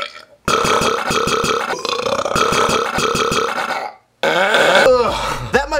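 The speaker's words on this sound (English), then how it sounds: "I dare you to burp dubstep!" A man burps a long rhythmic dubstep-style sequence, loud and close, with pulsing repeated belches, a brief pause, then a final warbling burp run.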